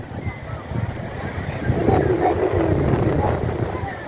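Sea waves break at night on Laboni Point beach in Cox's Bazar, a low, continuous surf rumble that swells midway, mixed with gusting wind buffeting the microphone.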